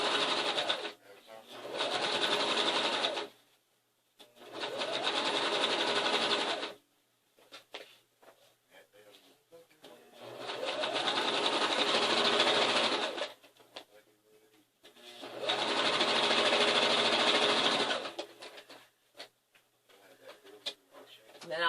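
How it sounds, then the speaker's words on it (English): A sewing machine running a straight stitch on a quilt-as-you-go quilt, three steady whirring runs of about three seconds each, separated by pauses filled with short handling clicks and brief stops. "So we're going to go back to our straight stitch, and we're going to sew down"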